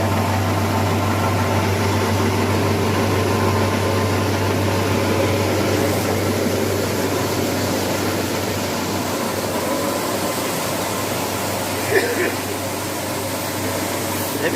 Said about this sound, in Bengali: একদম দেখুন দেশি চালের মুড়ি হচ্ছে কীভাবে